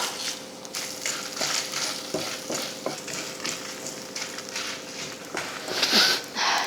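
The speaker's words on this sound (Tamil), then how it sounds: "எண்ணெயை ஊற்றிட்டு அது கூட மசாலாவை போட்டு வறுத்தரலாம்" Oil sizzles steadily with masala spices frying for mutton curry, a constant crackling hiss broken by occasional stirring scrapes and clinks of a spoon against the pan.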